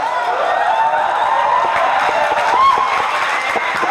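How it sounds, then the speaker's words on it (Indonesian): A seminar audience gives steady, dense applause mixed with crowd noise after a question-and-answer turn, loud and continuous throughout with faint voices underneath. "tepuk tangan dulu untuk Touch"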